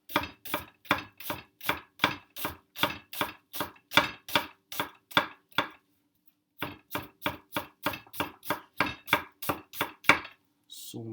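A new knife finely chopping onion on a board: quick, evenly spaced crisp chops in a steady run, a short pause, then another rapid series, close and clear with no talking.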